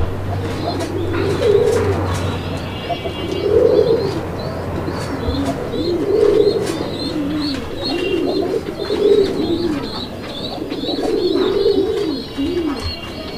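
Desi pigeons of mixed colours coo in a steady, repeating rhythm, the soft low calls rising and falling every couple of seconds, with faint chirps from other birds and a low hum underneath in the first stretch.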